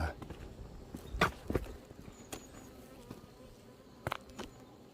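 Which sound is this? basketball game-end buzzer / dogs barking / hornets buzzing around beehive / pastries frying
hornets buzzing around beehive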